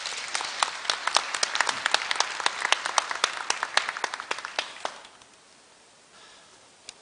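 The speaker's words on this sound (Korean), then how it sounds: "큰 박수로 환영해 주시기 바랍니다." Applause at Korea University's 109th degree conferment ceremony in a large hall, a dense patter of many hands clapping for about five seconds before fading out into near silence.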